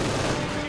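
Gunfire crackles from a unit called Mauled firing away in Company of Heroes 2, a 2v2 World War II strategy match, forming a dense, continuous burst that fills the short moment.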